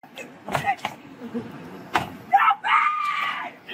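A woman screams in anger in bursts, shrill, close and harsh, cut by thumps and slams like a door banging, with brief talk mixed in.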